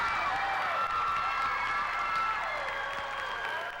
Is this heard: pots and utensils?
no